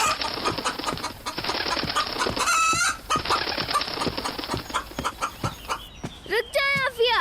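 A cartoon rooster clucks and squawks in excited bursts, with flapping and scuffling sounds and rising squeaky calls, while voices talk over the commotion.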